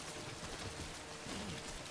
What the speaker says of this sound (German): Scheiß Regen, ey.